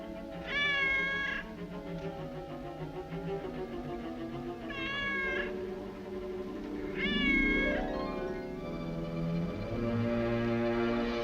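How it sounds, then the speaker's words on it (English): A cat meows three times in drawn-out, wavering cries spaced a few seconds apart, moderately close, over a faint room background with a low tonal drone swelling underneath. "That cat, I'd swear I put her out."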